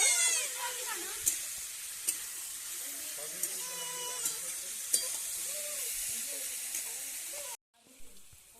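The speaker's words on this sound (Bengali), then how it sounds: "আলুর সঙ্গে ভাজা ভাজা করে নেব।" Potatoes frying in a pan with chopped ginger, tomato and green chili, a continuous sizzle with sharp scraping clicks from stirring at regular intervals; the sizzle cuts off near the end.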